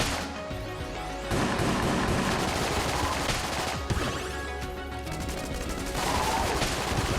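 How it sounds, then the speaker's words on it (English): Machine pistol fire in the video game Enter the Gungeon, a loud, continuous rattle of rapid shots with busy game sounds underneath, running almost without pause through the whole stretch. "I think it's a better machine pistol from what I can tell."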